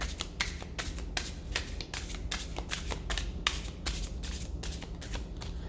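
An Omegaland tarot deck is shuffled steadily and close up, a long run of rapid, crisp card snaps and riffles with quick regular strikes. A low hum runs underneath and no voices are heard.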